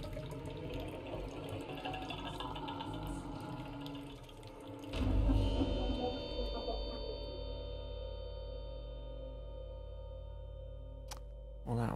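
Water faucet in the horror game Visage running and splashing, then settling into a low, steady trickle and hum, with a faint sharp click near the end and no voices.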